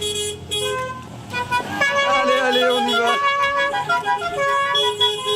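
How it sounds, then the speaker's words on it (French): A chorus of Renault 4L car horns honks loudly and repeatedly over each other at the 2022 4L Trophy rally near Algeciras, while people cheer and shout over the tooting. "Allez, on klaxonne, on klaxonne!"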